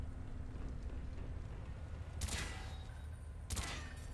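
Gunfire in the Call of Duty video game as door hinges are shot: two separate loud bursts of shots over a steady low rumble of background game noise.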